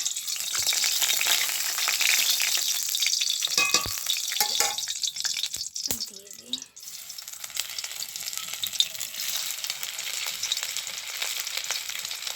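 Singhi fish frying in a hot kadai, a steady close sizzle and crackle of oil, with a few stirring scrapes and bumps partway through before the frying settles back into an even hiss.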